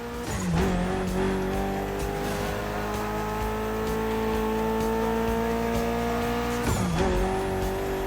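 A Mitsubishi inline-four car engine of 280 horsepower in The Crew Motorfest, heard in a Gymkhana setting, holds a steady, buzzing drone with a brief rev change near the start and another shortly before the end.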